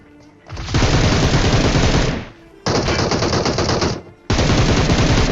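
Video game gunfire in three long bursts of rapid machine-gun fire, loud and close, separated by short pauses, with no speech.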